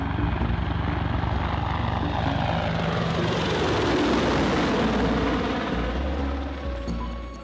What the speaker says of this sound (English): An Apache helicopter flies over a neighborhood in Baghdad.